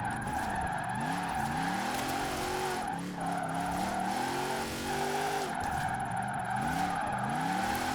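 A 1270-horsepower racing van drifts, its engine droning and rising and falling through repeated revs while tires squeal and hiss steadily, with no talking.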